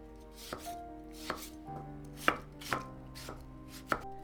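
Knife chopping vegetables such as carrots and bell pepper on a board, with about seven sharp, separate cuts at an uneven pace over a steady musical background, up close and with no talk.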